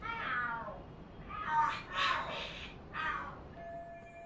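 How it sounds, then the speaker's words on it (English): Cats yowling and screeching in a fight within the video game Lost Judgment, several loud drawn-out caterwauls in quick succession, alone without talk. "Are there cats fighting?"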